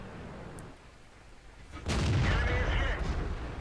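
A single heavy tank cannon blast booms out in a tank video game, cutting through low rumbling battle ambience and leaving a sustained roaring tail that fades slowly.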